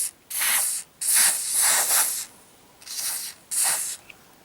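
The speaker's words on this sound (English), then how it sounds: "So we'll give the pedals a spray." Short hissing bursts from an aerosol lubricant can sprayed onto bicycle pedals, five sprays of varying length with brief gaps between, close and fairly loud.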